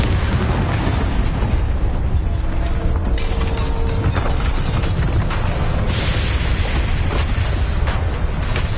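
A Bombarda blasting spell explodes in Hogwarts Legacy, a sustained, dense burst of booming rumble and crackling debris that keeps rolling at full loudness without letup.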